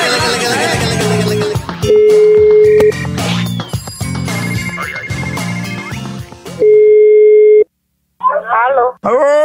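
A telephone busy signal repeats its steady tones, loud and close, broken by brief gaps and other phone beeps while someone makes a call.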